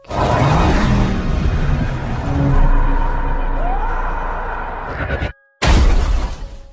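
An ambulance crashes and flips over in a film scene, with a loud continuous roar of engine and scraping impact, a brief sudden silence, then the crashing noise resumes.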